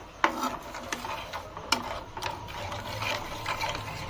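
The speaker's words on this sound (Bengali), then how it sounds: "এবার এগুলো জাল দিয়ে একদম পুরো ঘন করে ফেলতে হবে" Milk simmering with sugar, chopped dry fruit, almonds and cashews while a spoon stirs the pot, making soft scraping and light knocks against the pan over a quiet bubbling hiss.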